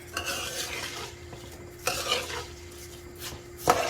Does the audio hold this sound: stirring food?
yes